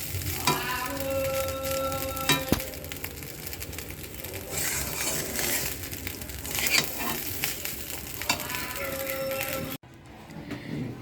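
Rice being stir-fried in a pan: continuous close sizzling with repeated spatula scrapes and sharp metal taps, cut off abruptly near the end before a quieter stretch.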